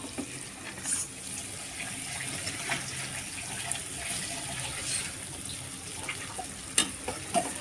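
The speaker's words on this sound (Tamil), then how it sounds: "சுடுதண்ணில் கழுவி வச்ச கருவாடை தான் நம்ம அலசி எடுத்து" Dried anchovy fish, already washed in hot water, swished and rinsed by hand in a bowl of water; soft continuous splashing and trickling with occasional small clinks, close and moderately quiet, no voices.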